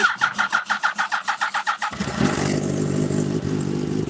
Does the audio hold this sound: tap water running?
no